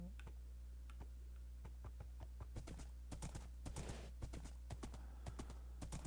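Horse hooves clip-clopping in Minecraft, a steady run of crisp, evenly spaced clops that quicken slightly toward the end, heard alone and close over a low constant hum.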